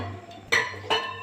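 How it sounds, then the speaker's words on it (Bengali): A lid is set onto a pot of cooking khichuri with two quick, close metallic clinks about half a second apart, heard alone over a faint low hum. "বাস ঢাকনাটা লাগিয়ে দেওয়া হলো"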